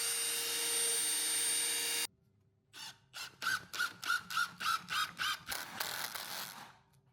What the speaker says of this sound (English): Drill and screw.